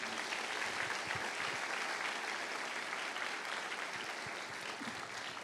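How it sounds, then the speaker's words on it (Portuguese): A church congregation at an early-morning Quadrangular service gives sustained applause, a dense, steady wash of many hands clapping at moderate distance throughout, with faint voices mixed in. "dá ao Senhor uma linda salva de palmas"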